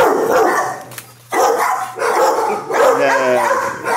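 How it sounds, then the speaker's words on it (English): A dog at an animal shelter barks and yips in loud bursts, close by, with whimpering tones mixed in and kennel noise around. "Or you just gonna bark and growl, huh?"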